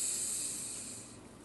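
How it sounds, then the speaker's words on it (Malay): A slow, deep inhale through the nose during a guided breathing exercise for stress relief, a soft steady airy hiss heard close and alone that fades gradually over its length. "cuba buat sama-sama. Tarik nafas."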